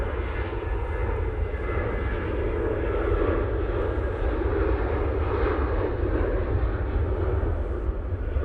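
A Ryanair airliner takes off at an airport, its engines roaring in a loud, steady, broadband rush that holds for the whole stretch, with no voices over it.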